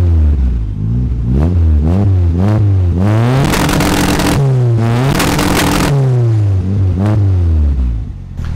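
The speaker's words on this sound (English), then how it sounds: "let's turn this up another 500 RPMs and see if this thing spits flames." Honda Civic engine converted to rear-wheel drive revving hard in repeated loud blips, rising and falling, then held high for a few seconds before dropping back into more quick blips, close and with no talking.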